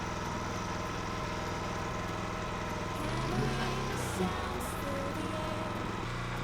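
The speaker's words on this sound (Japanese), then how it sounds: "そのエンジンの音を聞いてやってきたのはお隣さん。" Thirty-year-old tiller engine with a repaired stuck valve and bent pushrod, running steadily at idle close by with a low rumbling chug throughout, a slight surge and clatter midway.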